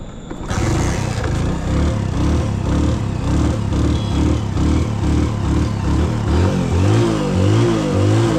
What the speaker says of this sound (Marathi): मित्रांनो गाडी स्टार्ट करतो.